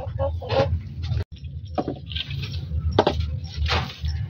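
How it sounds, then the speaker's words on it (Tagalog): Chickens on a farm cluck in short bursts near trays of corn fodder set on bamboo poles, a few close clucks and scratchy movements over a low background rumble. "As you can see, the chickens are already getting to it."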